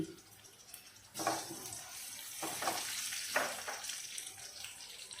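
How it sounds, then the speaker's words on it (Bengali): Steady, gentle sizzling of chopped garlic and onions frying in oil, with occasional stirring scrapes, close and fairly quiet. "এক টেবিল স্পুন রসুন কুচি করে নিয়েছি দিয়ে দিচ্ছি"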